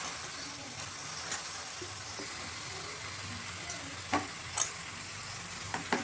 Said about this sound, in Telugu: ముందుగా కడిగి పెట్టుకున్న మటన్ అయితే వేసుకోవాలండి